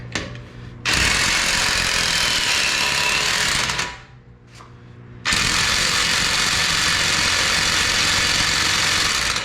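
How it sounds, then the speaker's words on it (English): An impact wrench with a 17 mm impact bit works on a BMW E9x 3-Series front wheel bearing job, with two long, loud, continuous hammering rattles separated by a brief pause. "Now I'm going to use an impact with a 17 millimeter. impact bit."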